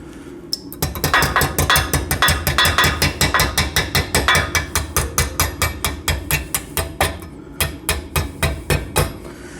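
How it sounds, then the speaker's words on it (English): Lump hammer striking a slightly damaged metal part to straighten it in a shed workshop, dozens of sharp, loud, close metallic blows in a steady rapid rhythm with only brief pauses. "lump hammer."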